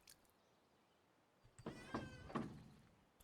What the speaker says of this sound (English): when something hits that boat, it sounds like there's a cat meowing or something